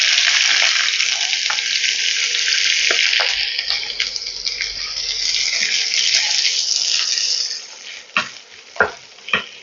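Chopped onion sizzles loudly in hot oil with whole cumin for a snack made with flattened rice, a steady broadband frying hiss that eases near the end into sharp stirring clicks and scrapes.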